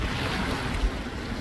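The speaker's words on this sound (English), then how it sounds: "Really, really windy out here today." Strong wind by a lake dock roars steadily across the microphone as a loud, continuous rushing buffet, with no voices.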